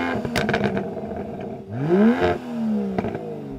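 An Aston Martin DBS sports car engine revs hard, rising and falling in pitch through a couple of throttle blips, with mechanical clatter, close and loud.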